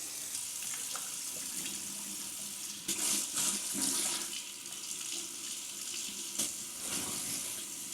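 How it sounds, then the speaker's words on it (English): A bathroom tap runs steadily into a sink while someone rinses cleanser off their face, with a continuous close hiss of water and a few splashy bursts as hands move through the stream. "Now we rinse."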